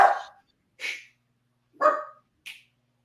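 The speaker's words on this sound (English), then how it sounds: "my dog starts barking" A dog barks four times in quick, uneven bursts, close and loud, with silence between barks and no talking.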